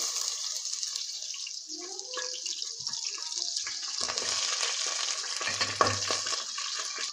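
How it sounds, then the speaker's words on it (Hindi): Onions frying in ghee in a pan for masaledar arvi, a steady broadband sizzle running throughout with occasional stirring clinks and a brief low thump near the end. "गोल्डन होने तक फ्राई करना है।"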